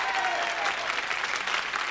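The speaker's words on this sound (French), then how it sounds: "On va déjà l'applaudir parce que c'est du beau boulot." Brief burst of audience applause, dense clapping at moderate volume, continuing steadily.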